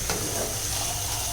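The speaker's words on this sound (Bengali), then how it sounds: "বেশ কতক্ষণ এটা আমরা ভুনতে থাকবো।" Masala frying in a pan with homemade tomato ketchup for prawn malai curry, giving a steady, close sizzle and hiss throughout with no talking.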